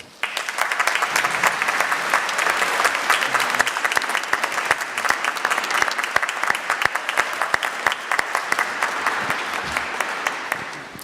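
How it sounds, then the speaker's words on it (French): An audience applauds in a dense, even roar of clapping that carries on for about ten seconds before tapering off. "je crois qu'on va le faire déjà par des applaudissements"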